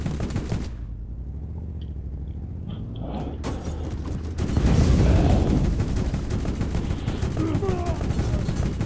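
Gunfire in the Borderlands arena, a burst of fusillade shots that swells into a loud stretch of sustained firing in the second half, with mechanical clanks and creaks around it.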